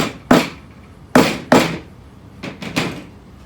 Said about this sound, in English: you can always go back and hammer them down